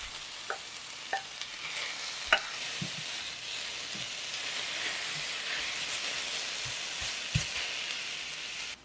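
Sliced onion with a pinch of salt and sliced carrot stir-fry in an oiled pan, giving a steady close sizzle. Occasional sharp clicks and scrapes come from a utensil stirring.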